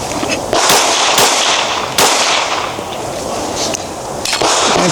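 Handgun shots, several sharp loud bangs a second or so apart, spread across a noisy outdoor range.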